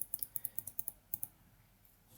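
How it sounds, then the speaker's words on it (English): Arrow keys on a computer keyboard click quietly in a quick, regular run of about a dozen presses, then pause and resume briefly near the end, close and soft. "we're going to move this with the arrow keys on the keyboard"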